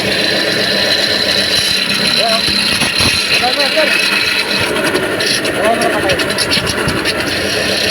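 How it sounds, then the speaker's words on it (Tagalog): A noisy Toyota Hilux engine runs steadily and loudly up close, with a harsh, constant mechanical drone and whine throughout while someone talks over it. "Napakaingay na makina mga boss, oh."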